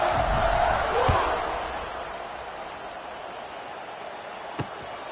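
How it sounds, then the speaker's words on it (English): A crowd buzzes in a stadium in the College Football 26 video game, a broad wash of noise that is loudest at first and eases to a steady hum, with a sharp knock near the end. "this crowd is buzzing after that last score"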